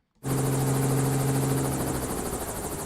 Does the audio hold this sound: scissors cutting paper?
no